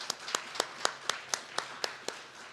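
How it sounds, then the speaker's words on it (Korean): A church congregation at a Wednesday worship service claps in unison, about ten crisp, evenly spaced claps at a steady moderate beat, heard fairly close with no talking. "우리 하나님께 영광의 박수 올려드리도록 하겠습니다."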